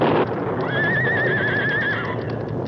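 A horse whinnies in a long wavering neigh as part of a radio drama sound effect, loud and close, with hoof clatter at the start and under it.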